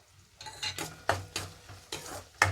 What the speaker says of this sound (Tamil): பச்சை மிளகாய் சேர்த்துட்டு நல்லா ஃப்ரை பண்ணிக்கலாம்